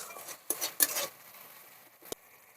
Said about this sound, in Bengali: টমেটোটা ততক্ষণ ভাজতে হবে যতক্ষণ না টমেটো থেকে কাঁচা গন্ধটা যায়, ততক্ষণ ভালো করে ভেজে নিতে হবে।